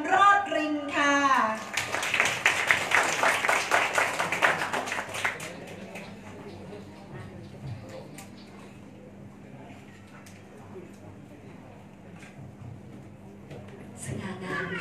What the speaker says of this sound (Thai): ขอเสียงปรบมือดังๆต้อนรับคุณพ่อคุณแม่เจ้าบ่าว